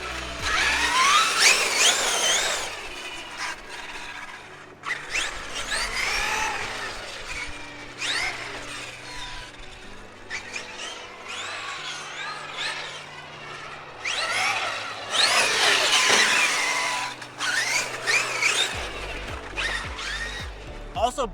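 Traxxas X-Maxx RC monster truck driving on slick, low-traction ground, its electric motor whining in repeated loud bursts as the wheels spin, with a voice talking over it.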